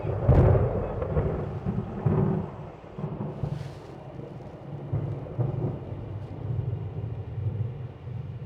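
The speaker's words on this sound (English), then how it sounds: "Get this little storm going on in here." Thunder rumbles and cracks around a parked truck at a solo camping spot in a thunderstorm, with rain pattering on the vehicle between loud, close rolling peals.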